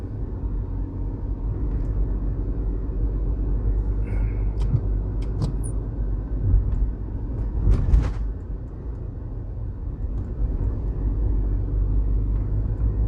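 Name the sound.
car driving on road through Bog Walk Gorge, Jamaica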